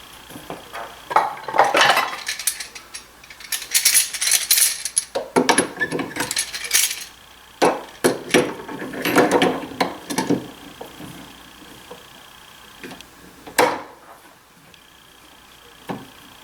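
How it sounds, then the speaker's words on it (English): A clamp put on and tightened while building a tool cabinet in a workshop: scattered metallic clanks, rattles and wooden knocks in bursts, fairly close, with quiet gaps between. "Let me get a clamp on this."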